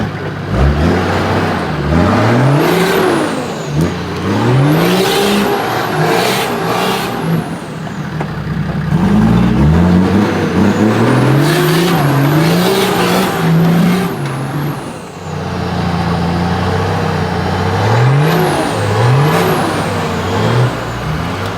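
A 4x4 climbs a rocky step on an extremely rough track, its engine repeatedly revving up and dropping back in strong surging waves, loud and close throughout, with no talking.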